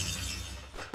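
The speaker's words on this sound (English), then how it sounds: "Now, if I were to hit him with this shatter shot right here," A shatter shot attack hits a unit in the video game Battle Nations, giving a brief loud burst of breaking, shattering glass-like noise that ends in a sharp final crack.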